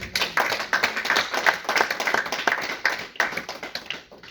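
A church congregation clapping for Jesus at a deliverance service, many hands in rapid, somewhat rhythmic claps that stay loud and steady throughout, with no talk over them.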